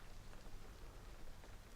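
Quiet, steady rain falls in a continuous soft patter with scattered faint drops, no voices over it.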